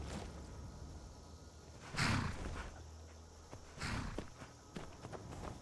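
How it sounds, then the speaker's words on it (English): Horse in the video game Skyrim at night, with hoof thuds and snorting bursts near the listener, two louder surges against a low ambient game background. "Horse is trying to kill me."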